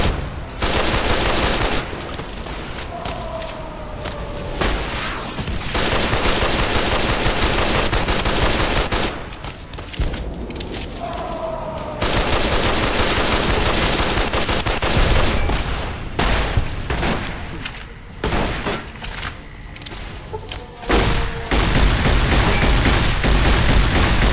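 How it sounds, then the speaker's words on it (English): Gunfire from the video game Fallout: New Vegas, with dense bursts of automatic fire and heavy cracking shots in repeated volleys, separated by brief lulls and loud throughout. "The weapons made huge explosive crashes and bangs, and you were deafened by the noise."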